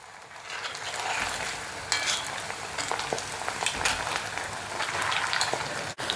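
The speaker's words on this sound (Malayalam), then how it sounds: "ഇനി നമ്മുടെ തിളച്ച് കിടക്കുന്ന എണ്ണയിലോട്ട് അങ്ങോട്ട് ഇട്ടേക്കാം." Dough balls dropped into boiling oil fry with a loud, steady crackling sizzle up close, the bubbling hiss continuous throughout with brief clatters from a utensil.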